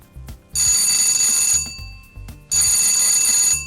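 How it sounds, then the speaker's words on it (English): A ship's all-clear electric alarm bell rings in two long bursts of about a second each, separated by a short pause, loud and close. "The all clear alarm sounds like this"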